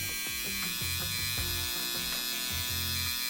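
A small electric hair trimmer buzzes steadily at close range, its motor tone wavering slightly as it runs; a fairly quiet unit, around 70 decibels.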